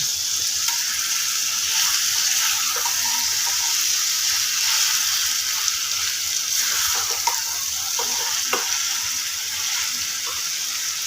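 Butter chicken masala sizzles and fries in a pan over a medium gas flame, a steady close hiss with occasional crackles and stirring scrapes, no voices.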